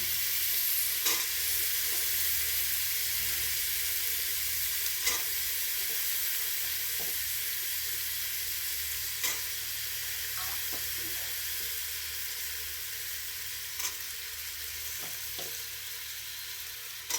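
Carrot and potato curry stirred into frying masala in a pan, a constant loud hissing sizzle with occasional spoon scrapes and taps spaced through it.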